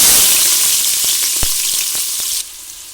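Chopped onions fry in hot oil for mutton biryani, giving a loud, dense, steady sizzle with a few soft clicks, easing slightly near the end.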